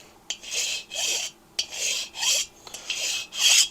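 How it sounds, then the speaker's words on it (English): Rhythmic rasping strokes shaving down the outside edge of a 1972 Harley-Davidson XLCH Ironhead Sportster cylinder, about six bursts of close, harsh scraping with short gaps between them. "Just shaving down that outside edge."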